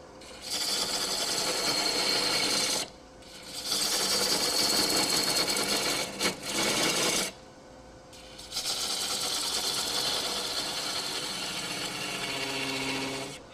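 Steady dry scraping and rubbing of a turning tool against spinning wood while shaping beads on a woodturning lathe, in several sustained bursts separated by short pauses.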